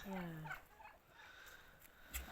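A farmyard rooster squabbling with hens, with faint fowl gobbling and clucking calls heard at a distance amid low background sound.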